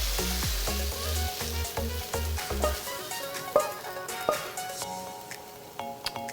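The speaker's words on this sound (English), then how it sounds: "so that way we can saute our rice a little bit" Rice sautéing in oil in a pan, crackling and sizzling steadily close by with scraping stir sounds and clinks of a utensil, no talking.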